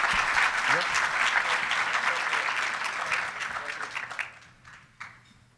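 An audience at a high school football awards ceremony breaks into sustained broadband applause that gradually thins out and fades, with a brief final burst of claps near the end.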